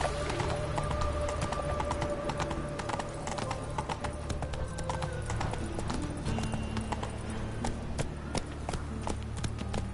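Hooves clip-clop in a fast gallop rhythm in The Witcher 3: Wild Hunt video game, close and steady throughout, with faint game ambience beneath.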